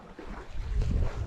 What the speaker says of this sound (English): We've got the right wind now, so we've got pretty good wind.